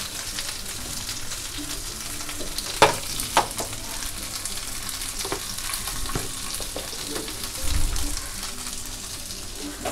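Stuffed okra fries in oil over a medium gas flame, giving a continuous close sizzle with scattered pops and crackles and a soft scraping stir and low thud partway through.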